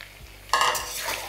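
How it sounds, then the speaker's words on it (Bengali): Pumpkin and potato pieces being stirred in a cooking pan for a Bengali red amaranth dish, a close scraping-and-sizzle burst that starts suddenly and carries on steadily, with no voices. "তারপর এটাকে আমি ভালো করে মিশিয়ে নিচ্ছি।"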